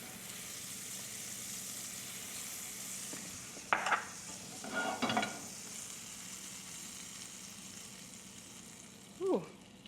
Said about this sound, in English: More butter in the pan.